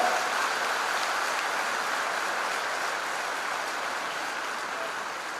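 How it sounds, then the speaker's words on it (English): A large audience at a college freshers' induction program applauds steadily, a dense, even wash of clapping that holds at a constant level throughout before easing slightly at the end. "Please give them a big applause."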